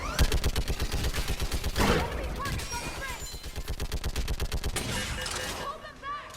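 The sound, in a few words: mounted gun firing in Mass Effect 3, a video game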